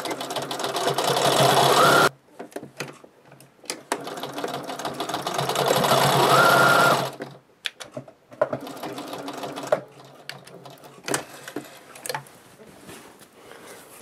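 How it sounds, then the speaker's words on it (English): A sewing machine stitching binding onto a quilt, running in two long steady buzzing stretches separated by a brief pause, then stopping, followed by light clicks and handling noises. "We're going to turn and we're going to keep sewing."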